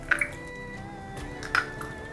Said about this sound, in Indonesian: Pecahkan telur di satu wadah atau satu mangkok.